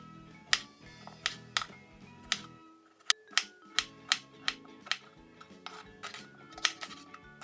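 A knife chops vegetables on a cutting board in a short kids' omelette-making session, giving a run of sharp, close taps at an uneven, slow pace with brief pauses.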